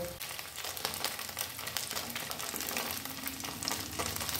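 Stuffed paneer pasanda pieces fry in a pan with a continuous, even sizzle and fine crackle, close and moderately quiet, with no talking.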